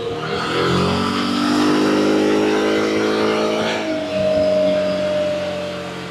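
A Kymco Xciting VS400 scooter engine runs on a dynamometer while warming up, a loud close drone that rises and holds, dips briefly, then settles at a steady pitch, with no talk.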